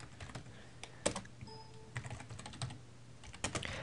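Fingers type on a computer keyboard, producing quiet, irregular clusters of clicky keystrokes with short pauses between bursts, close and alone.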